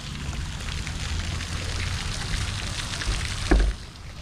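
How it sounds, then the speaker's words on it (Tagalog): Water from an outdoor fountain in Toronto splashes and patters continuously at close range, a steady wash with a brief louder splash near the end and no talk. "Ito yung fountain rito."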